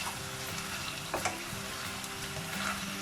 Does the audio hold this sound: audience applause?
no